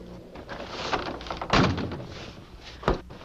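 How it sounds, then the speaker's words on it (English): A door being shut in a cold cabin in the bush, with a shuffle and a solid thunk near the middle followed by a second sharper knock, close and fairly loud. "why don't you shut the door?"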